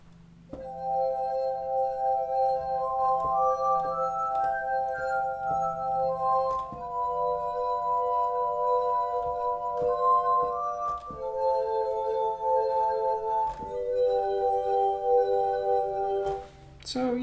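Sampled musical wine glasses loop in a Kontakt instrument, sustaining long bright ringing tones that shift pitch every couple of seconds over a steady low hum, with no talking.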